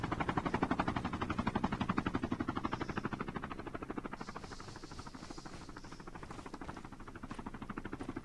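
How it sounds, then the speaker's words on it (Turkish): Helicopter arriving in Call of Duty Mobile, a steady rapid rotor chop that stays loud and constant throughout, with a brief higher-pitched whine layered on partway through and no talk over it. "Helikopter geldi."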